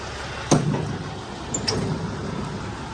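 A Kenworth W900 truck with a rebuilt 550 hp Cummins ISX engine on its first test drive, heard as a steady broadband rumble of engine and road noise with a couple of brief clicks.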